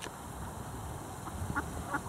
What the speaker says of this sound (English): And I have a duck right now nibbling at my foot.